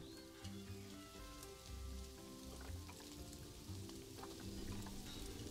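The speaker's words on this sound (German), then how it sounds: "Es regnet schon wieder hier." Video game rain in Planet Zoo patters and hisses steadily across the whole stretch, with scattered droplet ticks over a low, continuous layered background tone.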